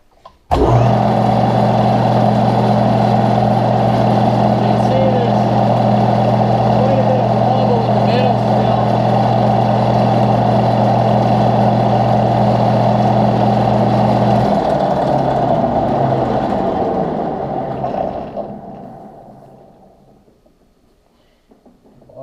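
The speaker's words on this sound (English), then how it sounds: "Anyway, I'll spin this thing. My lathe goes up to 1200 RPM." A homemade side-by-side driveshaft with a vibration wobble spins on a lathe at up to 1200 RPM, a steady mechanical hum with droning tones that drops off and slowly winds down to quiet.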